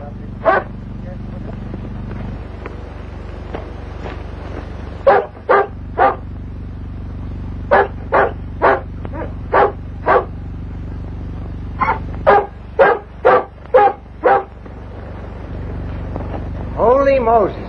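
A dog barks repeatedly at night in a 1938 drama film, sharp loud yelps in irregular bursts and clusters, ending in a drawn-out howl, with a low steady hum underneath.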